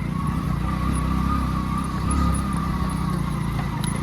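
A car drives up a rough hill road near Junnar and the Naneghat hills. The engine makes a continuous close rumble, with a steady mid-pitched whine and faint high ticks running over it.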